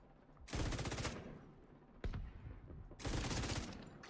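Two long bursts of rapid automatic gunfire from The Division 2, each lasting about a second, with a single sharp shot between them, loud and close with a faint voice underneath.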